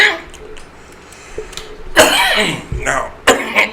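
Harsh coughing fit after smoking a blunt, a few faint throat sounds first, then a loud burst of hacking coughs in quick succession, up close.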